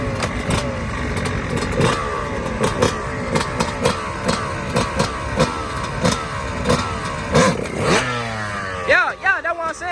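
Dirt bike engine revving hard in repeated throttle bursts during wheelie practice, loud and close, with people talking over it throughout.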